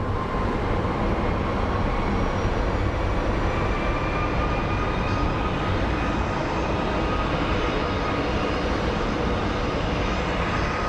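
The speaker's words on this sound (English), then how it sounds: "I think we have a plane incoming right now" A jet airliner arriving at Phoenix Sky Harbor airport, its broad steady roar filling the whole stretch without letting up, loud and close.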